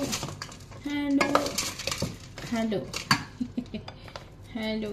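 A utensil clinks and scrapes against a bowl or pot as onions are stirred into chicken feet pickles, with irregular metallic taps and rattles close by and a voice briefly heard.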